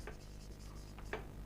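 Writing on a classroom board comes through as faint, quick scratchy strokes, a few short bursts of marking in a quiet room.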